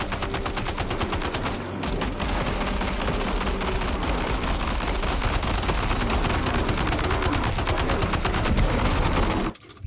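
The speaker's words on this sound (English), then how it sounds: "I'm just gonna keep shooting these guys in the ass" Rapid gunfire from a shooter video game, Death Stranding 2: On The Beach, with dense bursts of automatic fire running almost continuously and loud throughout, with a brief gap near the start.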